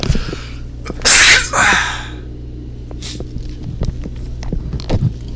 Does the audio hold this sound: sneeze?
yes